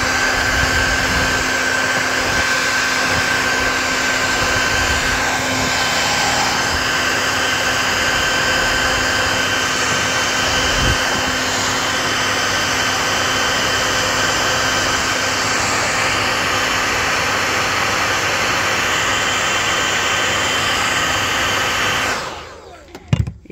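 Heat gun or hair dryer heating a sticker on a car body, a steady, loud blowing whir with a constant tonal hum that runs unbroken for over twenty seconds before cutting off, followed by a few faint clicks.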